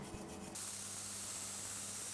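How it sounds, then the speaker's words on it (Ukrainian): A forged knife blade is sanded by hand in a blacksmith's workshop, making a steady, close, hissing abrasive rasp that runs without a break. "Далі довгий процес шліфування."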